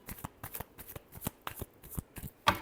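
Tarot cards are shuffled by hand in a quick series of crisp riffling bursts, about a dozen short snaps in an uneven rhythm, close and fairly soft, ending on one louder slap.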